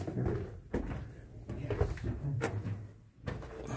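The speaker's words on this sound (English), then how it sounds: "That's a heavy duty door." A heavy-duty door in an old underground mine swings open or shut, giving a few dull knocks and scrapes close by against a hollow, echoing background.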